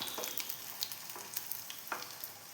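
Battered pineapple pieces deep fry in hot oil, giving a quiet continuous sizzle dotted with soft crackles and pops.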